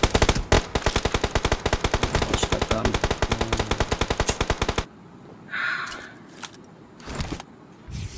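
Automatic gunfire in the mobile shooter game BGMI, a long, loud, rapid burst of evenly spaced shots that stops abruptly, followed by quieter game movement and rustling sounds.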